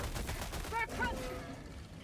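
Rapid SMG fire in Helldivers 2 during a fight against beetles, a dense continuous burst of shots with a voice speaking briefly over it.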